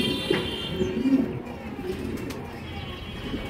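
A racing pigeon, a club-banded 2023 bird with a sore leg, coos softly in a loft, with low murmuring calls recurring through a steady background of other birds and faint ambient noise.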